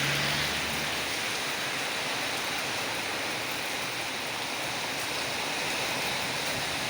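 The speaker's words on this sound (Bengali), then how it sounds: "আর বাইরে ভীষণ বৃষ্টি হচ্ছে" Heavy rain pours steadily outside during a snake rescue, a dense, even hiss of water that stays loud and unbroken throughout, with no voices.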